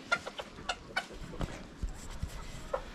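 Farm chickens cluck in short, irregular bursts at close to moderate distance, with some scattered barnyard noise behind them.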